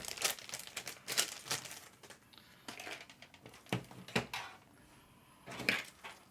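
Plastic bag holding PC front panel parts crinkles and rustles in irregular bursts as pieces are pulled out during a Ryzen 7 9800X3D build in an NZXT H7 Flow case, close and fairly quiet with short pauses between handlings.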